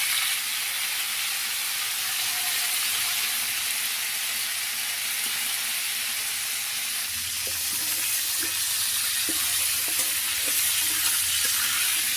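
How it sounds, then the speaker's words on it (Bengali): Whole king-size crabs frying in oil in a wok, a continuous dense hiss of sizzling with occasional soft crackles and stirring scrapes, close and even throughout. "এখন আমরা কাঁকড়াগুলো কড়াইতে ভালো মতো ভেজে নিব"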